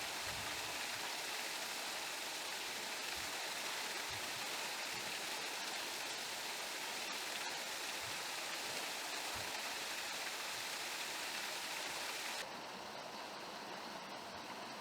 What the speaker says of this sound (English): just here we can see the water rushing over the lock out, the overflow of the sluice there